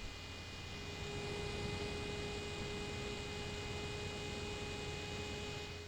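A BlackShark magnetic phone cooler fan runs continuously up close, a steady, loud airy whir laced with thin high-pitched tonal whines and a low hum, unchanging throughout.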